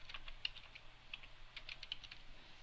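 A password is tapped out on a computer keyboard in a quick, light run of close keystrokes, faint and alone with no talking.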